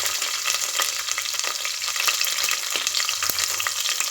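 Ginger, garlic and green chilli hit hot oil after mustard and fenugreek seeds for a fish head curry, giving a steady, close sizzle broken by occasional stirring scrapes, with no talking.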